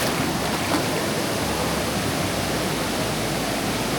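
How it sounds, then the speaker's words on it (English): Waterfall along the Mekong in Nong Khai, Thailand, a steady dense roar of rushing water filling the whole clip at constant loudness, with no talk. "Let's go have a look at this waterfall."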